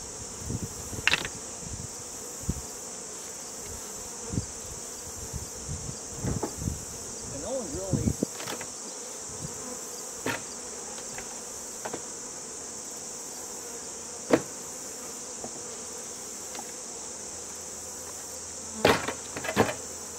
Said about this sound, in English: A lot of bees, a lot of brood.